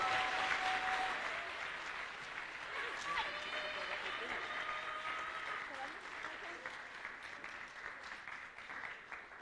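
Audience applause for a contestant at a cosplay competition during a fantasy convention show: sustained crowd clapping throughout, slowly fading, with music tones and brief voices mixed in early on.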